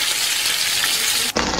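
Breaded yogurt rolls, coated in egg and breadcrumbs, deep-fry in hot oil with a loud, steady, close sizzle that shifts abruptly in texture just before the end.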